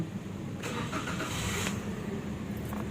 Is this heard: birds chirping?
no